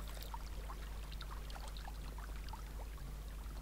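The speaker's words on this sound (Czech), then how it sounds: "Že já se na to ještě tady napiju z potoka." A quiet, continuous wash of flowing water with soft splashes and trickles as a character drinks from a stream in Medieval Dynasty, over a low steady hum.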